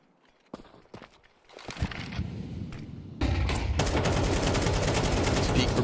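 Tech 9 pistol fire in a Counter-Strike 2 pro match, rapid gunshots and footsteps building into a dense, loud burst of continuous shooting and game effects in the second half.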